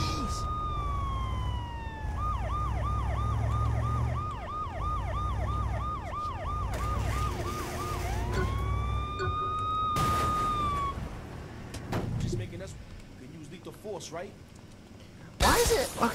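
In the video game Saints Row The Third, a police car siren wails, then switches to a rapid yelp and swoops again before cutting off. Voices and game noise sound beneath and after it.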